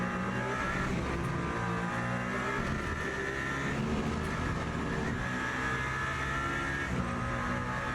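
A Toyota hypercar in the Le Mans Ultimate racing video game screams along at high revs, its engine a steady, loud, unbroken whine with faint tyre noise underneath and no one speaking.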